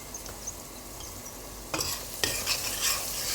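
Spices and curry sizzle steadily in a frying pan, a spoon scraping and stirring through them with a few sharper clatters toward the end; no one speaks.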